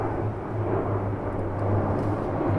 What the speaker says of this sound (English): Oh, another plane coming overhead.